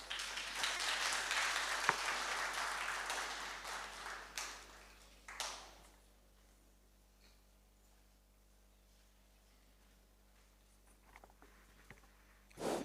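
Audience applause at a university event on ethics and corruption prevention, following a speech: dense, loud clapping for about five seconds that then stops abruptly, leaving near silence with a few faint stray sounds.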